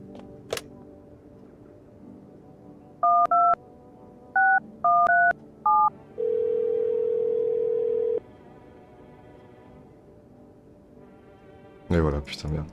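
Phone dialing in the video game No, I'm not a human: a series of clear electronic keypad tones, then a long steady dial or ring tone, followed by a brief burst of noise at the end.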